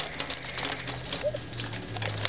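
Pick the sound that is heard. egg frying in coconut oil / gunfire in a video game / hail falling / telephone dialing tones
hail falling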